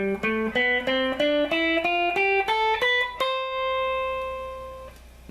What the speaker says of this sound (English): So if I wanted to play the major scale in the first pattern, it would sound like this.